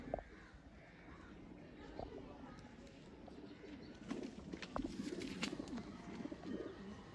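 Sialkoti pigeons cooing faintly in a loft, with soft low coos and scattered rustles and wing flutters that grow busier in the second half, and no talking over them.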